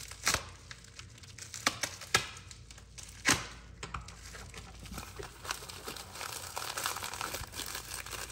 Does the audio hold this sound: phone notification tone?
no